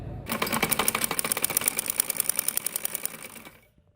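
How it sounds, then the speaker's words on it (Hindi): A sewing machine runs steadily for about three seconds, stitching the side seam of a kurti, its rapid rhythmic needle clatter close and clear before it stops. "मैं दूसरी साइड सी रही हूँ, मैंने पहली साइड सी कर तैयार कर ली है।"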